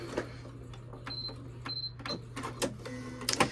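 A domestic sewing machine stitches binding along the edge of a quilted Valentine's table runner in short, quiet runs separated by brief pauses and small clicks.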